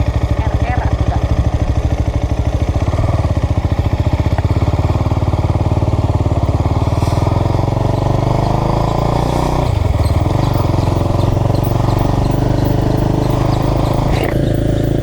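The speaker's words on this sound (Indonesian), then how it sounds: "Duh, cakra motor saya bersuara lagi, guys." A motorbike engine runs steadily close by with a low throbbing hum and a mechanical whine riding over it, loud throughout, while a voice talks briefly over the noise.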